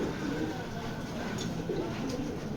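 Pigeons coo softly amid steady background noise, a low continuous murmur of birds kept by a racing-pigeon fancier, with faint voices nearby.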